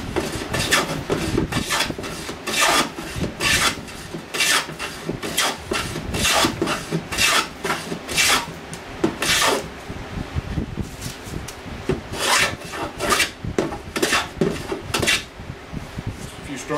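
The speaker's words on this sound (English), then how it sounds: "vintage Stanley number 5 jack plane that Chris Schwartz tells us we need." A vintage Stanley No. 5 jack plane, restored from rust, shaves wood in repeated rasping strokes, each a short, loud swish, in an even rhythm with a few brief pauses.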